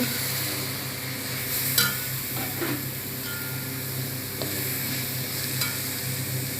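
Chopped tomatoes, crushed garlic and diced potatoes frying in a pan for butter egg biryani, a steady close sizzle with occasional scraping stirs and clicks of the utensil.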